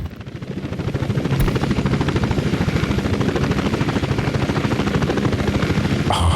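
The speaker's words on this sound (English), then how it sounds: "They're using helicopters for some reason." A helicopter's rotor thumps loud and steady in the city-building game Workers & Resources: Soviet Republic, with a constant engine whine and no voices.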